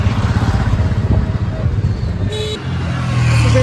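A motor vehicle passes close on a road, its engine rumble loud at first then easing, with a brief higher whine near the end and faint background voices.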